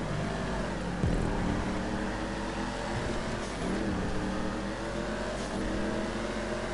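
A race car engine in the GTA V racing game revs steadily, its whining harmonic tone climbing and dipping in continuous sweeps at close range, with no talk.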